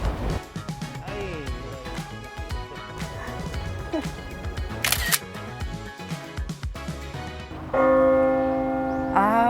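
Church bells ring out in a busy city street, a steady peal carrying over traffic and crowd bustle, with a louder, sustained tolling swelling near the end as people talk nearby.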